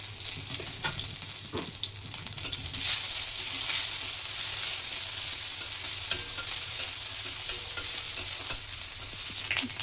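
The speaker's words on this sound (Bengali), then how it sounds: "একটু হলুদ দিচ্ছি, আদা জিরা বেটে রেখেছিলাম দিয়ে দিচ্ছি।" Turmeric and a ground ginger-cumin paste sizzle in hot oil in a pan, a steady loud frying hiss with light stirring scrapes throughout.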